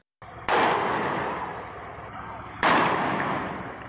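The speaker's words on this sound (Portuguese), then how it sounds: "De repente, tiros são disparados pela polícia." Two sharp police gunshots ring out about two seconds apart, each loud crack trailing off into a long echoing decay outdoors.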